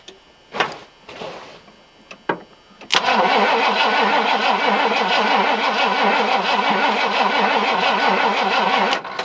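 A Ford work truck engine, under repair for a snow plow setup, cranks in a few short loud bursts, then catches and settles into a steady, loud, close idle that runs to the end.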